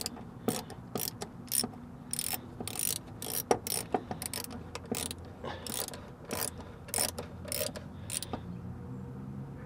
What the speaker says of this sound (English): we get to use one of the best tools, which is the 1/4-inch ratchet with the 10 mil on it.